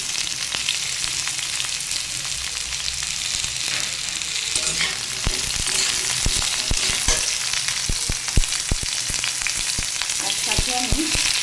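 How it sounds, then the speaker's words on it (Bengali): Taro stolons and sweet pumpkin fry together in a pan, a steady dense sizzle broken by frequent clattering stirs and scrapes of a utensil, growing busier midway. "এবারে এই দুইটা আইটেম আবার একসাথে ভাজবো।"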